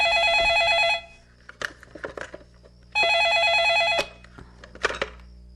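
Telephone bell ringing in two long, loud, metallic bursts about two seconds apart, with quiet rustling and small knocks in the gaps between rings.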